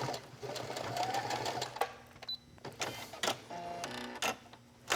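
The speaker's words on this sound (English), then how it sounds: "okay, so we've got 2 lines of stitching done" Close by, a sewing machine stitches a circular jewelry pouch, a steady mechanical hum and chatter running for several seconds before slowing into a few separate clicks and short bursts.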